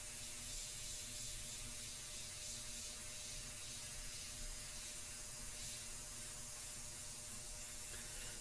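An airbrush sprays India ink in a continuous, steady hiss that holds level and close for the whole stretch, with no pauses and no voices.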